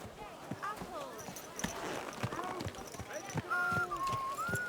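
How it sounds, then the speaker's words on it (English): Horse hooves clip-clop through a busy medieval town street in Kingdom Come: Deliverance II, steady and fairly close beneath market vendors calling out and chatter. "Watch out for that horse."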